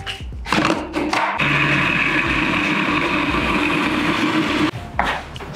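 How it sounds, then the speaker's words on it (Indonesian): A blender roars steadily for several seconds, grinding a thick spice paste, with short starts and stops at the beginning and end. "Nah, ini semua akan kita halusin"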